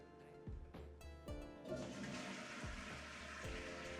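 A wall-mounted dual flush Swiss Madison toilet flushes in a luxury custom home, water rushing and gurgling steadily with repeated low pulses, fairly close.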